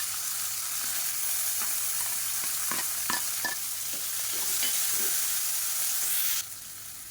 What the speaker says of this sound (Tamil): இப்போ பாருங்கள் எல்லாமே நல்லா பொரியுது